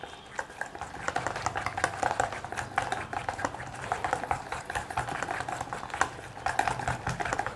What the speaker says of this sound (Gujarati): એક વિસ્કર લીધું છે, એનાથી હું મિક્સ કરીશ બધું, થોડું થોડું પાણી એડ કરીને